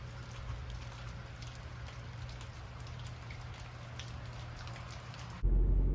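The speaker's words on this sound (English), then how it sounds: "The rain has not stopped yet" Steady rain on a backroads trip through small-town Missouri and Kentucky, a constant dense hiss of drops pattering without letup, even and moderately loud, with a heavier closer burst at the very end and no one speaking.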